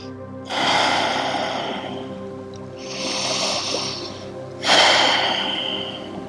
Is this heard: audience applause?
no